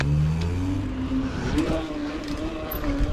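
Motorbike engine revving while it is ridden in a wheelie, rising and falling engine tones that swell and dip in pitch, close and loud with wind noise over them, lasting about three seconds.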